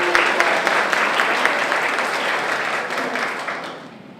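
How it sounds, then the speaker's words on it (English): An audience at a church-hall fashion show applauds steadily, dense clapping filling the room and slowly tapering off near the end. "So let's give everyone a applause."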